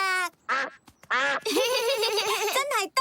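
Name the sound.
person imitating a duck's quack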